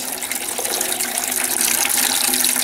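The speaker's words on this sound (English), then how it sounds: "it's not exactly clear water coming out of that." Murky water pours from the tap of a small homemade biogas digester used as a compost tea vessel, making a steady, close gushing splash that swells slightly louder toward the end.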